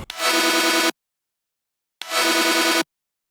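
Chopped, glitchy synth stab from a hardwave track, two loud dense bursts each cut off abruptly after under a second, separated by a second of silence.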